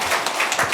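Audience applause at a Korean National Assembly policy seminar on suicide prevention and the role of media, a brief, dense burst of many hands clapping with no voices.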